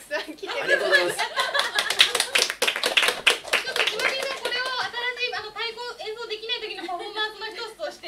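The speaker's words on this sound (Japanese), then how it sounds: "すごい拍手がたくさん来て る。" Audience clapping at a Japanese variety stage show, many hands in quick dense bursts at first, then thinning while voices and light laughter come in over the top.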